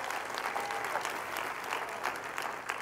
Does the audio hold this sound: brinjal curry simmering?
no